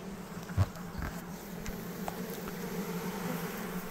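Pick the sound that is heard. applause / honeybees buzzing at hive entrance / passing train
honeybees buzzing at hive entrance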